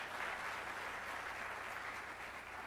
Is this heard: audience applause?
yes